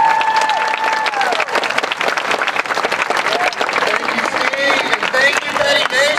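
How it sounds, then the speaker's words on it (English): Outdoor crowd at a park dedication in Gainesville gives the mayor a loud, sustained round of applause, with scattered cheers and voices in the crowd mixed in. "Let's give a nice round of applause to Mayor Warren Poe."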